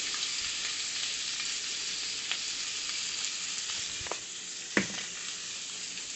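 Rockfish fries in a pan with a steady, fairly quiet sizzle, joined by a few faint clicks and taps of a utensil.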